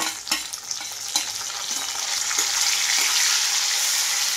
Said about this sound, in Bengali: এই যে আমার পেঁয়াজ ভাজা হয়ে গেলে এবারে টমেটোটা দিব।